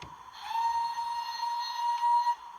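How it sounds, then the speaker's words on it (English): A Hornby sound decoder fitted to a 9F model steam locomotive gives one thin, quiet, sustained whistle toot of about two seconds with a clipped ending. "Let's give it a toot of the whistle."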